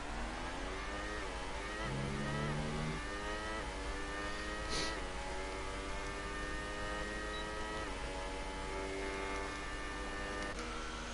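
Race car engine in a racing video game, a continuous high buzzing drone whose pitch climbs and drops repeatedly with gear shifts through corners, sustained and fairly loud with no clear talk.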